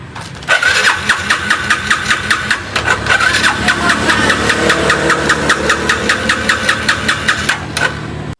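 An engine cranks over and catches, then runs loudly with a rapid, regular ticking knock, close up and steady until it suddenly cuts out.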